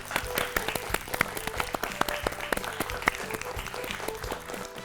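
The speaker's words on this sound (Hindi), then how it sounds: "तालियां।" An audience of children on a school quiz show about dental care applauds, a dense run of sharp, close claps lasting several seconds with voices faintly underneath.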